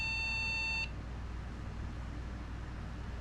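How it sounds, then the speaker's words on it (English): A steady electronic PC motherboard error beep, high and clear, holds for under a second and then cuts off, leaving a low background hum. "Alright, we do have beeping."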